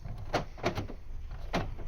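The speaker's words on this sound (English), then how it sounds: "we're going to try the key first in the door just to make sure it works" A key turning in the door lock of a 2014 Volkswagen Up: several quiet mechanical clicks and clunks spaced irregularly, heard close up outdoors against faint background noise.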